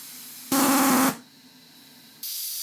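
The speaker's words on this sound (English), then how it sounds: "This is what the safety valve looks like when it's blowing off." The safety valve on a model steam engine boiler blows off steam in a loud, sharp hiss for about half a second. It drops to a quieter background hiss, then surges again into a sustained rush.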